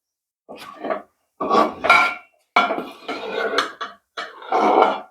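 A spoon scrapes and knocks against a pot while fenugreek rice kali is stirred, coming in several close, uneven bursts separated by short pauses.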